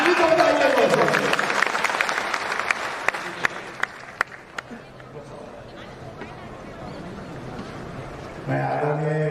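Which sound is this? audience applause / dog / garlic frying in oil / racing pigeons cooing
audience applause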